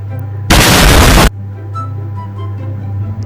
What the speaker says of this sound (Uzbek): ko'ramiz buni qanaqa portlaydi ekan